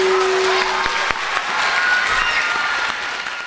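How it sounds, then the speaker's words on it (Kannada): An audience at a children's drama performance claps loudly, dense sustained applause from a crowd filling the whole moment, a few sharper individual claps standing out. "ಮುದ್ದು ಮಕ್ಕಳಿಗೆ ಜೋರಾದ ಚಪ್ಪಾಳೆ."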